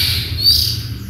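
A short bright chirp from an oriental magpie-robin (kacer) kept in a hanging breeding cage, a single clear call over a low background hum.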